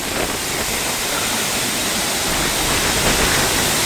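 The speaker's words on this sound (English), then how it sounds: "So they say you can get behind, but the falls are too high right now. Way too much water." A powerful waterfall in Wells Gray, British Columbia, running very high with heavy water flow, roars as a loud, steady, broadband rush that fills the whole moment without letting up, close and overwhelming.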